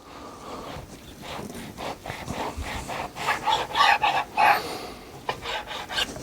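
A dull knife saws through rolled pork belly cinnamon rolls in repeated rasping strokes, a scraping rhythm that grows louder and rougher midway, close and without talk.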